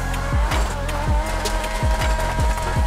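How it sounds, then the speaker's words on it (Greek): A modified car in GTA roleplay revs and accelerates on a test drive, its engine note rising and falling in repeated sweeping surges with faint tire squeal, loud and close throughout. "Έχω περιέργεια τι ήχο βγάζει αυτό το αμάξι"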